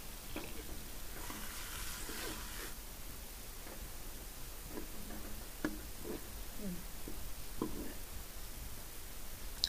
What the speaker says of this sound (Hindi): इसमें मैं एक बड़े साइज़ का प्याज मैंने काट के रखा हुआ है, वो मैं डाल दूंगी इसमें